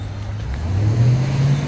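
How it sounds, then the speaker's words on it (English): Traffic passes on 2nd Street at Girard Avenue in Philadelphia: a steady, nearby engine drone with a rising accelerating tone, heard alone. "We're gonna allow 2nd Street traffic to pass."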